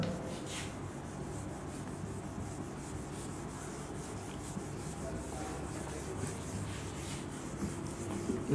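A board is rubbed to erase writing, giving a steady, continuous scrubbing texture that runs for several seconds at even loudness, close by, with no talking.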